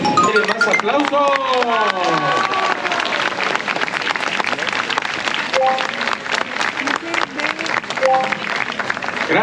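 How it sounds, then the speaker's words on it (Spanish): Audience applause at Parque Xcaret in Mexico, clapping that runs steadily through the clip with a few whistles and shouts from the crowd mixed in. "¡Más aplausos!"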